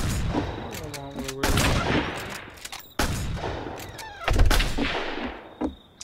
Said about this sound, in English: Lots of gunshots going on.